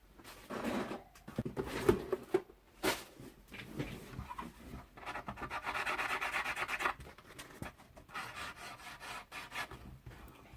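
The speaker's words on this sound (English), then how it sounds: "This is just a nail file I'm using since it is a bit harder." A nail file rasps across the top of a resin prop building, flattening it with uneven back-and-forth rubbing strokes in close, quiet bursts that pause and restart, with no talking.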